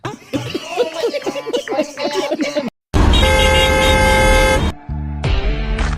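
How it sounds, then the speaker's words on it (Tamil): Voices and laughter come first, then a loud, steady car horn blares for nearly two seconds, followed by a shorter honk. "இதுக்குடா இப்ப ஹார்ன் அடிச்சுட்டு இருக்கேன்"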